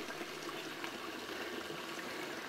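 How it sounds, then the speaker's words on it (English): Water swirling and sloshing in a gold pan during hand panning, a steady continuous wash of liquid close by with no talk. "you're gonna slowly roll that water in the pan."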